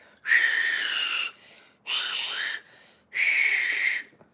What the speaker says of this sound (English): I tell you guys how I'm trying to learn how to fucking wolf whistle